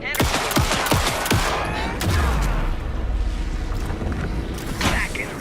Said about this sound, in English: Anderson, pin him down with a gunfire for me to get the light on him.